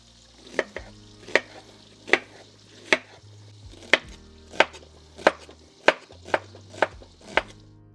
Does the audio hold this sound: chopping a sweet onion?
yes